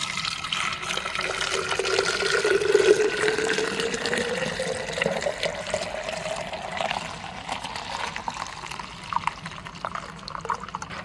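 Strained jamun juice, about two litres, poured steadily into a jar, a continuous liquid splashing and trickling with a rising fill tone that slowly shifts in pitch, fairly close and with no talking.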